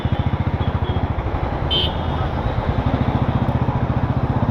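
A Royal Enfield Thunderbird 500 motorcycle engine thumps in a fast, steady rhythm while riding, up close and continuous, with wind rush over the top.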